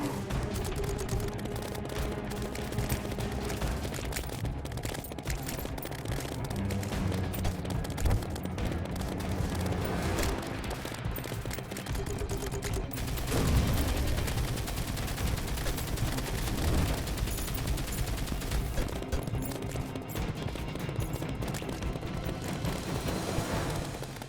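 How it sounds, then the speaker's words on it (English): Firestorm cannon firing nonstop in Terraria with the Calamity mod during a fight against the King Slime, a dense, loud barrage of rapid gunfire and explosive blasts that runs for the whole stretch without a break. "craft the firestorm cannon and test it against the king slime"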